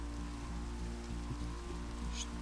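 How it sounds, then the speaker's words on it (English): Rain falls in a Minecraft roleplay game as a steady, faint, even patter with a constant low hum beneath it, with no voices. "The rain should stop soon."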